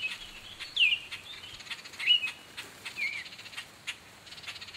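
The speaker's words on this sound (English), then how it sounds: "red-winged blackbirds were joined by an oriole in loudly scolding the would-be intruder" Sharp, scolding calls of red-winged blackbirds and an oriole ring out in spaced bursts, several birds answering one another outdoors over a faint airy hiss.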